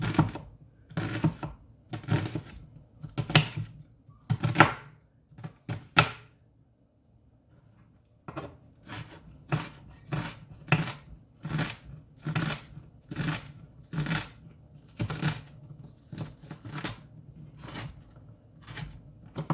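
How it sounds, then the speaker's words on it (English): Onions for homemade meatballs being chopped with a knife on a cutting board: a series of crisp, close thunks in quick bursts, with a short pause partway before the rhythmic chopping resumes. "I don't want these onions big and chunky, so I'm just going to cut them down"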